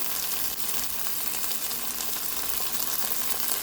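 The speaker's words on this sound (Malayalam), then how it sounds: "സവോള ഒന്ന് വരണ്ട് വന്നിട്ടുണ്ട് ചെറുതായിട്ട്." Onions frying in a pan for paneer tikka masala wraps, a steady dense sizzle with no pauses, close and fairly loud with no talking.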